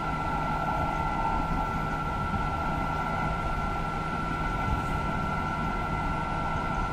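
Train running at high speed in Train Simulator 2020, a continuous dense rumble and rolling roar with a steady tonal hum, loud and unchanging throughout with no talk.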